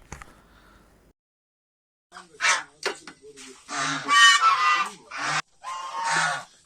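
Loud, repeated honking duck calls in bursts after a brief quiet stretch, close by and harsh, with faint rustling at the start.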